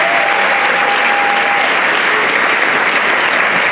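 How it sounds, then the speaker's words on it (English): Steady, loud applause from an audience at a political event, a dense wash of clapping filling the whole stretch without pause. "Give them a round of applause."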